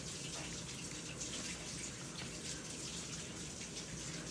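Water runs steadily from a sink tap as hands are washed, a soft continuous splashing hiss heard close and quiet without talk.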